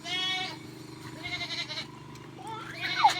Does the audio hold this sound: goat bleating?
yes